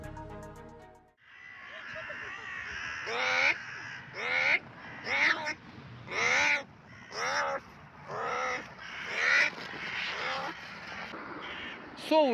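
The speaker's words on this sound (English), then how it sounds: "Совы в городе ворону ловят." Crows in a city cawing loudly and repeatedly in a string of about eight harsh, rhythmic calls while owls hunt a crow, close and clear with no talk.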